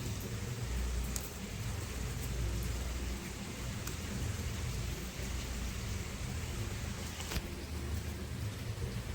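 Steady rain falls on a morning after several days of downpour, a dense, even hiss with low rumble underneath and a few brighter drop clicks, continuous throughout with no voices.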